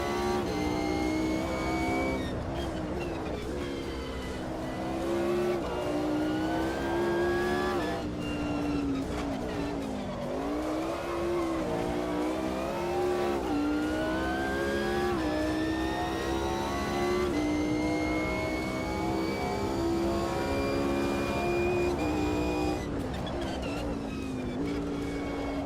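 A Mercedes CLK race car engine in the Automobilista 2 racing game revs up and down through gear changes, its harmonic whine rising and falling steadily and loudly throughout the run.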